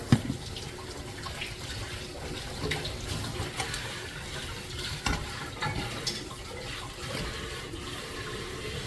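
Tamarind juice is poured into hot oil with curry leaves for pulihora. A sharp splash at the start gives way to steady, close bubbling and sizzling with occasional louder spurts, and no voices are heard.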